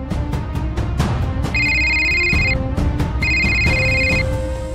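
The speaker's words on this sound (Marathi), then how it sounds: "हे बघ, गौरीजींचा फोन आहे" A phone ringtone plays loud and close, an electronic melodic pattern that repeats twice over a constant low background.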